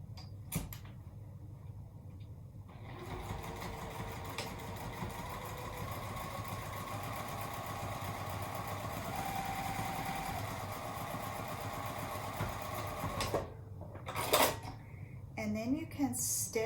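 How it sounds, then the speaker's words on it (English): A sewing machine stitches a center channel through elastic and fabric to secure a tote bag pocket, running as a steady mechanical hum for most of the clip before stopping, with a few handling noises at the end. "go ahead and stitch right down that center channel, and this will secure that elastic and stabilize that pocket"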